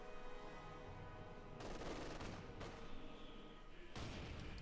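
A .50 caliber machine gun firing in Company of Heroes 2, distant bursts of rapid fire starting and stopping in several stretches over continuous battle noise, faint overall.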